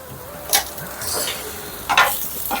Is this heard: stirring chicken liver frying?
yes